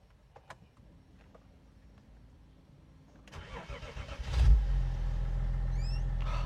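A BMW X5 diesel engine cranks and catches after a quiet moment, then settles into a steady, smooth, close idle with a low rumble and a few faint knocks beforehand.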